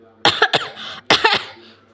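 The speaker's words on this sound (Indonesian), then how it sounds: "bentar aku batuk dulu" Two sharp coughs in quick succession, close and fairly loud, followed by a brief pause and a third harsher cough with a raspy tail.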